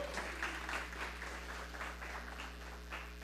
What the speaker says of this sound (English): We can give him a round of applause, please.